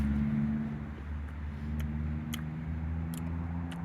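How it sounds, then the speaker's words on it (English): Low, steady rumble of road traffic with a constant engine drone and no speech. "Oh, I love the sound of traffic."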